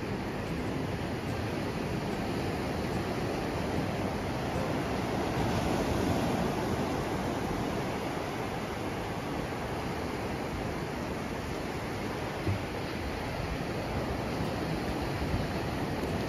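Continuous ocean surf washes over Cha-am beach in Thailand, a broad steady roar with slight swells, mixed with some wind noise and no voices.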